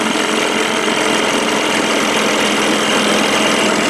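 A 1987 Johnson 6 hp outboard motor runs steadily at idle, a continuous, loud and even putter with a slight knocking vibration throughout, and no voices.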